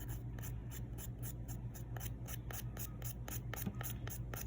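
A natural fingernail being lightly buffed before press-on nails are applied; faint, quiet, rhythmic short scratchy strokes repeating steadily, close up, with no speech.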